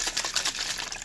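Water splashes and patters as it is poured into a blender jar, a brief, close, bright hiss with quick uneven spatters.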